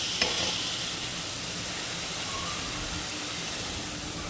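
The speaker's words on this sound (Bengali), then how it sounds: "আমি স্লাইট একটু জলটা দিয়ে আবার একটু ভালো করে আলুটা কষিয়ে নিচ্ছি।" Potatoes frying in oil with a little water added, a constant hissing sizzle with a short clatter at the start, close and fairly quiet, no voices.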